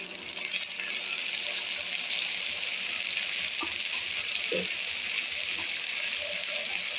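Chicken pieces are stirred with masala in a hot pan, producing a steady broadband sizzle with occasional soft scraping knocks, fairly close and continuous throughout.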